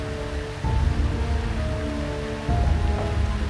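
Heavy rain pours steadily in a storm, a dense continuous hiss with low rumbling, swelling louder twice, with no voices over it.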